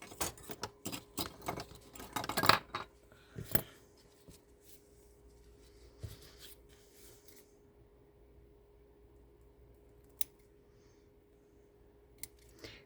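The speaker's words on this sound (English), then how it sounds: "These are dull scissors." Dull scissors snip through material while making resin crafts, giving a rapid run of close, sharp cuts and rustles at first, then scattered isolated clicks over a quiet background hum, with nobody speaking.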